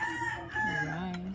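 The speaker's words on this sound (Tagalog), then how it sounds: "Papakita ko po dito sa inyo yung nakapaligid po ako ng manok dito, mga sabunin na manok." A rooster crows among surrounding native chickens on a farm, a fairly close drawn-out call with harmonic rises and a falling tail, heard over low background chatter.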